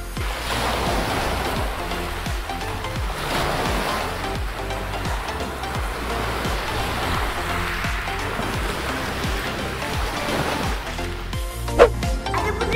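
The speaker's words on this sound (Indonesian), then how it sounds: "Wah, ombaknya kenceng banget teman-teman." Strong ocean waves crash at an indoor art attraction in Bandung, a loud, steady roar of surf with a repeating pulse running through the whole stretch and a brief sharper burst near the end.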